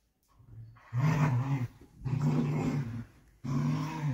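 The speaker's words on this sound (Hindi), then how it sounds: "कुत्ता तू ही है, तू इतना भौंक सकता है" A beagle growls and barks in close, loud bursts, with three long rough vocal outbursts separated by short pauses and no talk over them.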